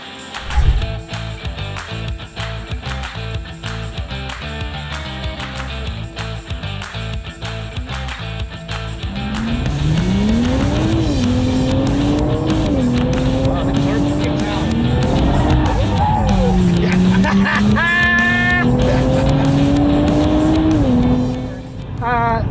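A 2024 Nissan Z sports car driven hard on a race track: a steady engine drone builds into a loud rising and falling rev with gear shifts, and tires briefly squeal near the end.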